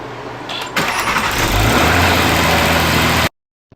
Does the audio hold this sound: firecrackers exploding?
no